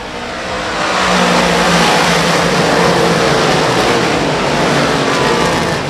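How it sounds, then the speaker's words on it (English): Big block modified race cars roar off the start of a 25-lap feature race, a loud, sustained wall of engine noise that swells after the first second and holds steady with no voices. "25 lap Spirit Auto Center Big Block Modified feature is off and running."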